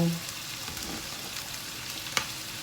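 Corned beef sautés in a pan in Filipino ginisang style, a steady bright sizzle and crackle, with a faint voice at the start and a sharp utensil clink near the end.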